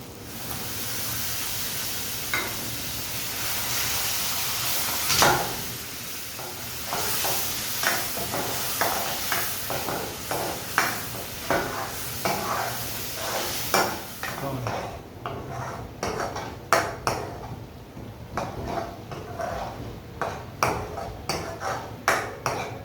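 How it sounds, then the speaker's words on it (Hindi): Tomato puree hisses and sizzles in a hot pan while cooking a Punjabi thali dish, a steady frying hiss giving way to repeated metallic clinks and scrapes of a spoon stirring. "डालेंगे इसमें टोमेटो प्यूरी"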